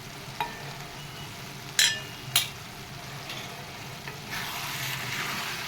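A spoon stirs tomato drumstick curry in a pan, soft scraping over a low simmering sizzle, with a few sharp metallic clinks against the pan.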